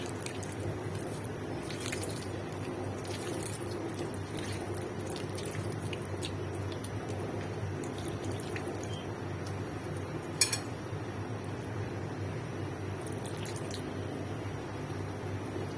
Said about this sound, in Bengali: টমেটোগুলো গলিয়ে নিয়েছি, এখন আমি ডিমটাও মাখিয়ে নিচ্ছি একসাথে